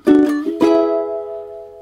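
Up the neck on a ukulele, the chorus chords of a song are strummed: a short burst of strums, then a final chord left ringing and fading, played close and solo.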